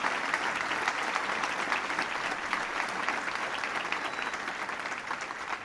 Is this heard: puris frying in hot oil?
no